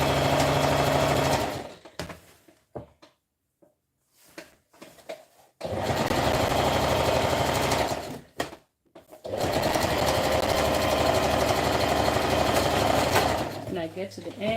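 A sewing machine runs stitching fabric in a home handmade-crafts session, whirring loudly in two long steady runs with a short pause between, then slowing and stopping near the end.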